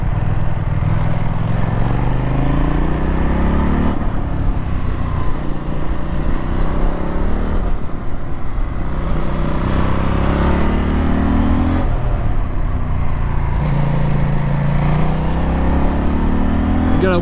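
CF Moto 800 NK motorcycle, a 2025 model, riding along an open road: a steady, loud engine drone with rising and falling revs and gear changes throughout, wind noise on top, no talking.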